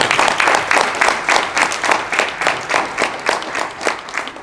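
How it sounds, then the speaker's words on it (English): An audience gives a speaker a round of applause, a dense, steady patter of many hands clapping together in a room, sustained evenly for several seconds. "If you could help me in welcoming him and giving him a round of applause for his support."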